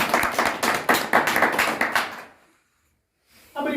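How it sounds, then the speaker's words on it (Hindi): An audience claps hard in an RCM business marketing-plan meeting, a dense burst of loud rhythmic hand claps pulsing for about two seconds before stopping abruptly, a short silence, then noise returning at the end. "एक बार ताली जाओ जोरदार"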